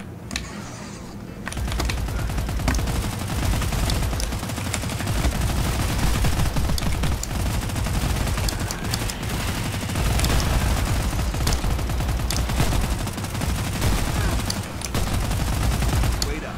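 Rapid SMG gunfire in the video game Hellbreach: Vegas, dense continuous bursts of fast shots that run almost unbroken for many seconds, loud and close, with voices talking faintly beneath.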